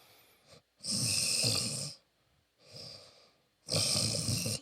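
A man imitates snoring with his voice, making three rasping, throaty snore sounds on the exhale, each lasting about a second, separated by brief quiet breaths, close and fairly loud.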